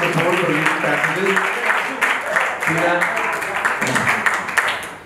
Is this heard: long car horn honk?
no